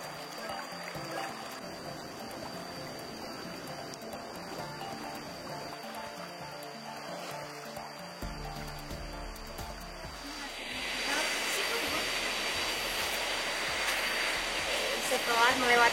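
River water rushing through a West Sumatra valley, running higher than usual in the rainy season: a steady broadband roar that swells noticeably louder partway through and continues without a break.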